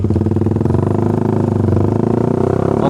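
A Suzuki Satria F150 motorcycle on stock parts with a swapped ECU rides through Jakarta streets, its engine a steady, close, throbbing mid-pitched drone with a rapid pulsing rhythm and no talking.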